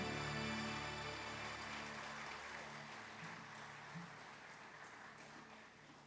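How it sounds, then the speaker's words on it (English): Audience applause at the launch of the 2024 Saint Lucia Jazz & Arts Festival, a dense wash of clapping that gradually fades, with no talking over it. "that deserves another round of applause"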